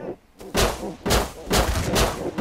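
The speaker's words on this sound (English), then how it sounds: "We got shotguns, Jimmy!" Shotgun blasts in the video game Rust go off in quick succession, about four loud, booming shots roughly half a second apart, dense and close.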